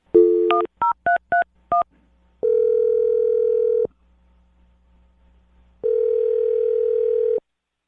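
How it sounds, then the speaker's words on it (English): A telephone number is keyed in with a quick run of distinct touch-tone beeps, followed by two long, steady ringing tones separated by a pause of near silence, clear and close. "I'm dialing her phone number."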